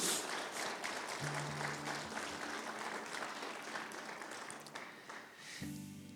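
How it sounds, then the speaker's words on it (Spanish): Church congregation applauding during a Spanish-language service, a steady wash of clapping throughout with a sustained organ or keyboard chord sounding beneath it and swelling near the end. "Denle un aplauso al Señor."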